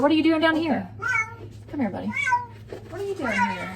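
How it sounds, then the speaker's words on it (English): A pet cat named Swiffer meows several times in drawn-out, wavering cries, loud and close, while someone talks to it over a steady low hum. "Sorry, guys, that's my cat Swiffer."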